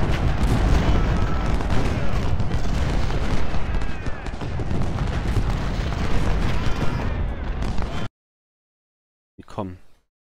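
Cannon artillery fire in the Civil War strategy game Ultimate General: Civil War, during a Union battle at Brock Road. Dense, overlapping booms and blasts roll continuously at high volume for about eight seconds, cut off abruptly into silence, then a brief final burst follows.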